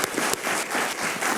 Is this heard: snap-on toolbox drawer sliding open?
no